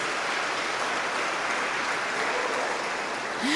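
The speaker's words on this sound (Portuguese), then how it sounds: "Você pode aplaudir o Senhor Jesus?" A church congregation applauds throughout, producing continuous dense clapping at a steady level, with a brief rising tone near the very end.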